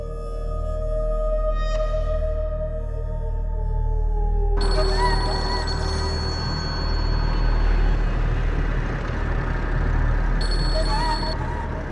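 A phone ringtone plays electronic tones, switching to a brighter repeating ring partway through, over a low background hum.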